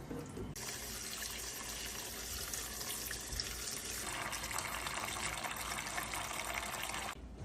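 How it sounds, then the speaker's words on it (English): Water from a tap gushes steadily into a 24-quart cooking pot already holding six chickens, filling it for a dog-food topper; a loud, continuous splashing rush that stops abruptly near the end. "All right, it's time to add in some water."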